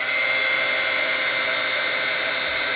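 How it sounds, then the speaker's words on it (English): A handheld heat tool blows continuously to melt embossing powder on die cuts, a loud steady whirring hiss with no breaks, close and alone. "Make sure you keep your heat tool moving."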